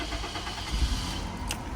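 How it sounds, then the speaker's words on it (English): A pre-facelift 2003-2009 Toyota Wish engine is started with the key in the ignition: a steady, fairly loud mechanical rumble with a brief surge partway through, close by and without talk. "So basically just need to slot it right into the ignition switch, turning on for accessory power, and just hold it in"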